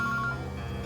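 A mobile phone rings with a short electronic tone, a brief bright repeating beep pattern over a low hum, close and clear, lasting under a second.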